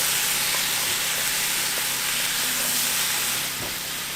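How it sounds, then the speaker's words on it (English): Onions roasting and sizzling while preserving garden vegetables, a steady, dense hiss and crackle of frying that fills the whole stretch at a close, even level, with no talking. "got the onions roasting"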